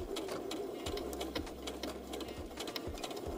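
Sewing machine stitching back tacks on a dress strap, a close, steady rapid whirring chatter with short pauses as the stitching reverses direction, no talking.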